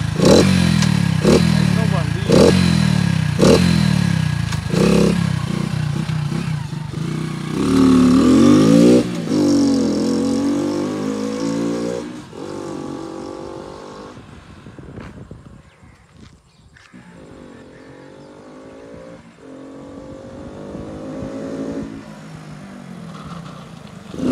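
A modified Hero Splendor motorcycle with its air filter removed, revving loudly with sharp rhythmic engine pulses and rising revs, then fading as it rides away before returning at the end.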